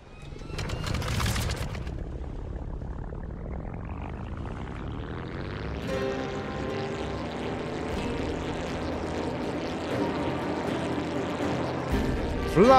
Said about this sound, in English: Let's start up the plane and go!